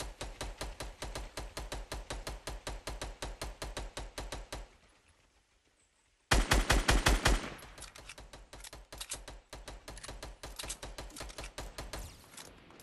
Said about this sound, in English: He's shooting back at me now.